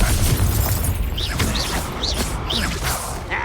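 Repeated Confringo spell blasts from Hogwarts Legacy burst and whoosh in a dense, loud battle din, several impacts landing roughly half a second apart.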